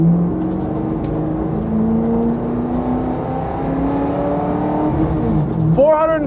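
A championship-winning 2002 Mustang Cobra Grand Am race car engine drones on a track, its pitch rising slowly as it pulls. It sounds close and loud and ends in a sharp burst of revs.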